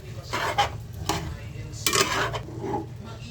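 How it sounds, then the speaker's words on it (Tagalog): A spoon stirring dinuguan, Filipino pork blood stew, in a pot: a few short scraping and clinking strokes in uneven bursts, close and moderately loud, with a faint cooking sizzle underneath. "So, haluin muna natin."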